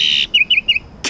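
Bright, high bird chirps: a sustained trill, then three short rhythmic tweets, and a brief noisy burst at the end.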